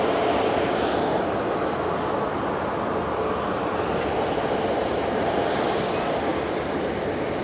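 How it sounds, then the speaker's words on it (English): A United Boeing 787 Dreamliner airliner arriving at a German airport, its broad engine roar steady and fairly loud throughout with no talk. "United 787 Dreamliner next in."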